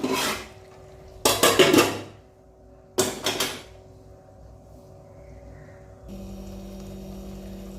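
The lid of a pot cooking okra comes off with two loud metallic clatters close by, separated by a pause over a low steady hum, followed by a faint continuous whine.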